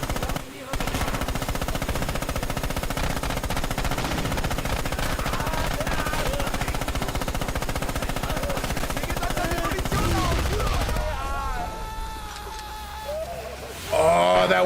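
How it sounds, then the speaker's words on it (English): Explosion from a grenade going off in the World War II shooter Red Orchestra 2, with dense, loud battlefield gunfire throughout, then a sudden drop to a quieter stretch carrying a strained death scream from a Russian soldier. "That scream that you heard is a Russian death scream when a grenade goes off next to someone"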